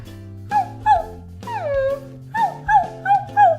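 A dalmatian dog whimpers and whines close by in a series of short, high, wavering cries, with one longer drawn-out whine in the middle.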